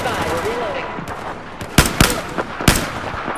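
Gunfire in the video game Battlefield 4 on PS4 crackles throughout, with several loud, sharp close shots punching out near the end over a busy battle din; a voice talks briefly.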